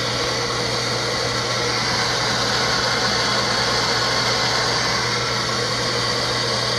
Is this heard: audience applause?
no